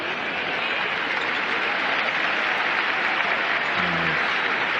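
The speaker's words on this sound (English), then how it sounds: "The Allen Fieldhouse crowd applauds for the Howard players getting back to their feet." Crowd at Allen Fieldhouse clapping during a Kansas versus Howard men's college basketball game, a dense, even wash of applause filling the arena throughout.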